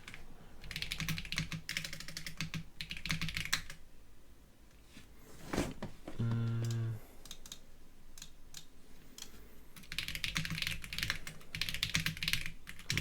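Rapid clacking keystrokes on a computer keyboard come in dense bursts, broken midway by a brief low hum and a pause before fast typing resumes.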